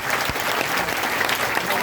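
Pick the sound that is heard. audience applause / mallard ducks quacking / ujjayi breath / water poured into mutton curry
audience applause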